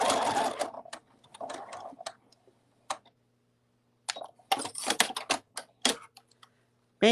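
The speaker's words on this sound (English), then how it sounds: "I'm just going to sew these ears on really quick" Sewing machine stitching the ears onto a fabric cuddle bunny with a 1/8 inch seam, heard in short close bursts of rapid stitching separated by pauses and small clicks.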